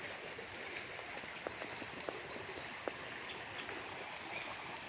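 A stream near Ksheera waterfall flows in a soft, continuous rush with faint scattered splashes, heard quietly and evenly throughout without any voices.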